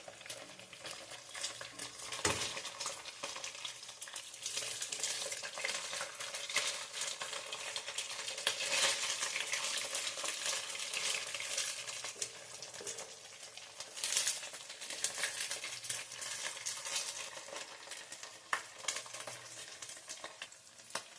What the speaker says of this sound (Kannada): ಒಗ್ಗರಣೆ ಹಾಕ್ಕೊಳೋದು.